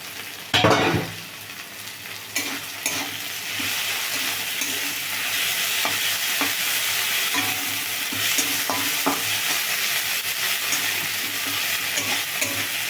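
Ginger, garlic and onion paste frying in a pan, a steady close sizzle with occasional stirring scrapes and clacks, loudest at the start when the paste hits the oil.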